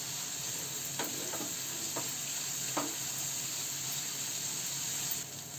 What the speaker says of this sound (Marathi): त्यामध्ये बारीक कापलेला कांदा टाकूया. तर मीडियम गॅसवर आपण हा कांदा चांगला परतून घेऊ.